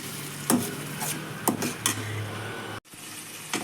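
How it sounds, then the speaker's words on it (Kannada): Masala paste with onion and tomato frying in oil, a steady broadband sizzle with a few sharp stirring scrapes and clinks from a spoon against the pan, close and fairly loud, broken by one brief dropout. "ಮಸಾಲೆ, ಈರುಳ್ಳಿ, ಟೊಮೆಟೊ ಎಲ್ಲ ಚೆನ್ನಾಗಿ ಫ್ರೈ ಆಗಿ ಎಣ್ಣೆ ಬಿಡ್ತಾ ಇದೆ"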